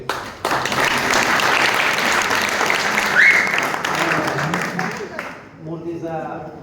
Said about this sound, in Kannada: ದೊಡ್ಡ ಚಪ್ಪಾಳೆ ಬೇಕು.